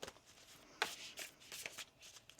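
Tarot cards being shuffled by hand in a quiet room, a soft, rapid papery riffling with several crisp flicks and light slaps over a couple of seconds, faint and close.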